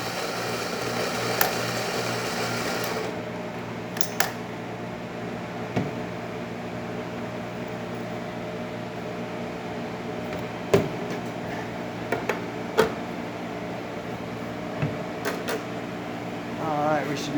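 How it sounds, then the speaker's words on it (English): Rancilio Rocky coffee grinder with fresh burrs grinding coffee beans, a steady mechanical motor hum with a steady buzz, ending abruptly after a few seconds and followed by sparse clicks and knocks as a person talks. "we're going to come over and grind some fresh coffee from this Rocky with fresh burrs"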